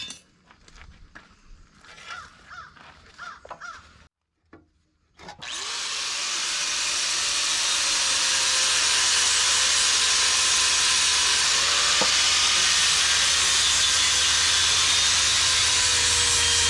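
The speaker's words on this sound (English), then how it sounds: "Let's get those cleaned up with the grinder." An angle grinder cleans up cut metal gussets for a DIY camping shower frame, winding up after a few knocks and then a long, loud, steady whine running alone for over ten seconds.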